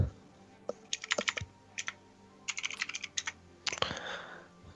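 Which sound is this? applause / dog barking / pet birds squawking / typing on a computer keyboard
typing on a computer keyboard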